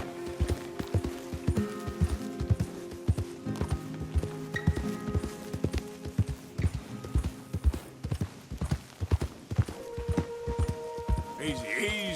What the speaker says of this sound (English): that's what you call a horse in its prime